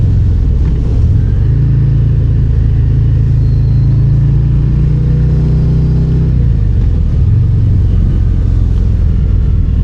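A 2025 Harley-Davidson Fat Boy in third gear: a loud, deep V-twin engine rumble heard steadily up close, swelling into a stronger sustained drone midway before settling back.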